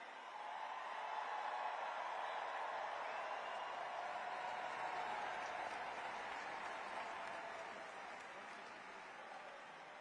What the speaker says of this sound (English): Join with me in giving a huge round of applause to President Biden.